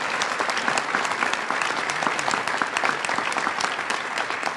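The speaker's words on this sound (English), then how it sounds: "Let's have a nice round of applause for all our recipients." Large banquet audience at a healthcare association awards ceremony applauding recipients, a thick, even wash of many hands clapping that stays strong and steady from start to finish without speech.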